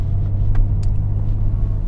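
A 1994 BMW E34 M-Tech sedan's engine gives a steady, loud low rumble while driving, with the revs held fairly even and no clear climb in pitch.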